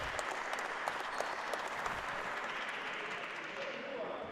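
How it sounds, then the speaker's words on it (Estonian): Spectators clap throughout a county championship basketball final, a steady dense applause filling the hall with scattered louder claps; a commentator talks over it. "Ja kõik plaksutavad."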